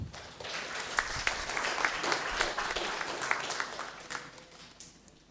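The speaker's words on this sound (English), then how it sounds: "And give applause." Conference audience applauding at an HPC school event, a dense crowd of hand claps sustained for several seconds before tapering off, with no speech over it.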